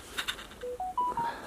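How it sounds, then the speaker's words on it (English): A mobile phone's notification chime plays outdoors by a riverbank: two quick high blips, then a short rising run of clear electronic tones, fairly close, with no talking. "Oh, my bloody phone again"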